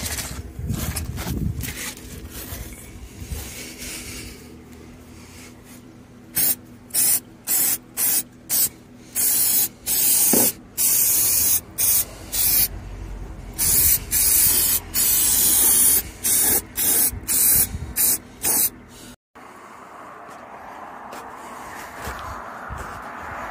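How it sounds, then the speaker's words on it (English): Brake cleaner aerosol hisses onto a car body in a long run of short, loud spray bursts with brief gaps between them, close up, without speech. "so right now we're going to give her some brake clean."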